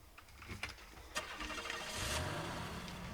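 A tractor engine in a Roblox game cranks with a few sharp clicks and sputters, then catches and rises into a louder, rougher running rumble.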